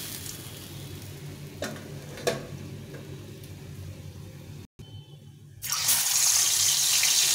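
Small rohu fingerlings frying in oil give a steady, close crackling hiss, with a short pause near the middle before the sizzle comes back louder and brighter.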